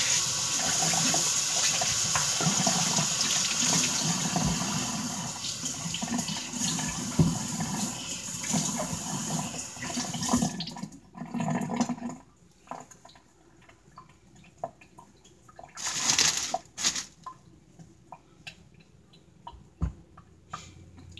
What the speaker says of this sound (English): But here's my lettuce. And I'll give that a quick wash.